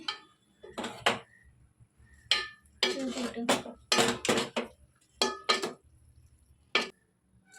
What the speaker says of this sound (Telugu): వడగట్టుకున్న పాకం రైస్లో పోసుకోవాలి పోసుకొని మొత్తం ఒకసారి కలుపుకోవాలి